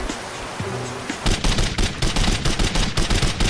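Rapid automatic gunfire in the video game Code of Honor, a sustained rattling burst of shots after a quieter start, loud and close with steady repeating rhythm.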